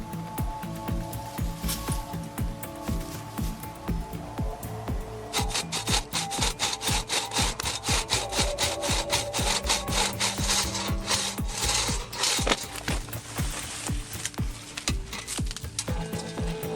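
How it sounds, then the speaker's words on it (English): A cross-cut saw works through wood in steady, rhythmic back-and-forth strokes, close and clear, with a rasping scrape on each pass and no talk. "Cross-cut saws like these are now relics of the past"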